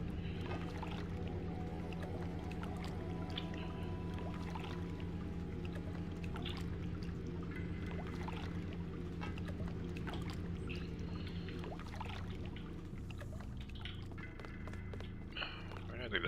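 Steady low engine drone of a boat in the video game Deus Ex, an old-fashioned-looking vessel fitted with a modern engine, running continuously with watery texture and some speech over it.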